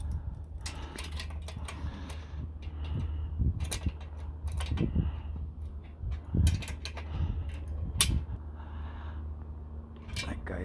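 An adjustable wrench clicks and scrapes against metal bolts while tightening a Harbor Freight Pittsburgh 2000 lb engine stand, with irregular close metallic taps and ratcheting knocks over a steady background hum.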